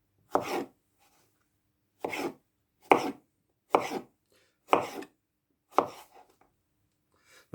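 Kitchen knife chopping vegetables into fine brunoise dice on a board, heard as six separate bursts of quick close chopping strokes with short pauses between them and no talk.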